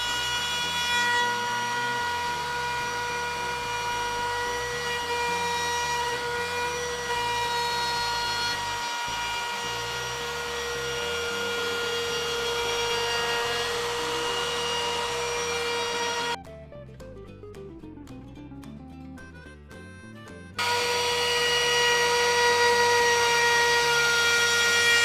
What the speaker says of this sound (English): I'm going to go ahead and put an 1/8-inch roundover on this with this palm router